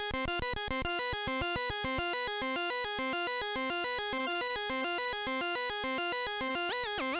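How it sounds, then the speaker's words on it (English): A bright, buzzy Game Boy-style chiptune arpeggio from a GBA MIDI synth rapidly cycles through notes in a steady repeating pattern, running continuously on its own. "Once again, you can use the arpeggiator."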